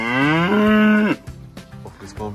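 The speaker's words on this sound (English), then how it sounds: "Cows coming in." Dairy cows lowing on a farm as they come in for milking: one loud, drawn-out moo, then a shorter, fainter moo and some scattered lowing, with no talk.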